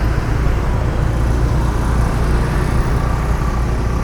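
A car drives through Sanur, Bali, after rain, giving a steady low engine and road rumble with tire noise from inside the vehicle, constant and fairly loud, no voices.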